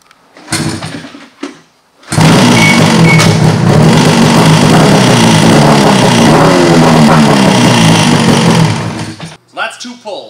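An old Ski-Doo Rev snowmobile, cold with the choke on, comes after two rope pulls. Short pull sounds lead into a loud, close two-stroke engine catching and running steadily for about seven seconds, with speech at the start and end.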